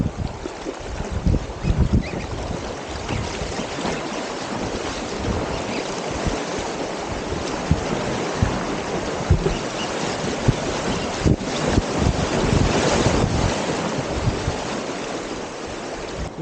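Metolius River water rushing and churning past a packraft, a continuous loud broadband wash mixed with gusting wind buffeting the microphone, close and steady throughout.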